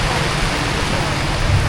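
Steady rain pours down at a building site where a wall is being plastered, a dense, even hiss with no breaks that holds at the same level throughout.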